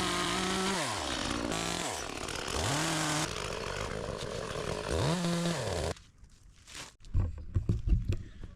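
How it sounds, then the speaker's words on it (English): A chainsaw pruning apple tree branches, its engine revving up and down in repeated loud whining cycles at close range, then cutting off and followed by a few knocks and rustles. "We're going to start out with a chainsaw and do a little structure pruning, get the bigger stuff, crossing branches"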